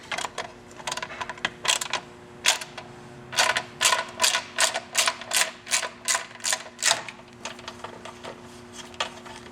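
A ratchet with an 8mm Allen socket clicks in quick, rhythmic bursts while loosening the skid plate bolts on a Victory motorcycle, close and distinct, with brief pauses between runs of clicks.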